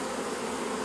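Honey bee swarm streaming into a hive box, a dense close buzzing drone holding steady and loud throughout the brief moment.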